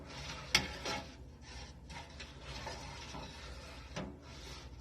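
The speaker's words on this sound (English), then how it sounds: "as you're doing this, you're going to want to stir it constantly" A spoon stirs milk curds constantly in a pot while mozzarella cheese is made, giving soft wet scraping and swishing strokes in an irregular rhythm, close and quiet, with a few sharper knocks against the pot.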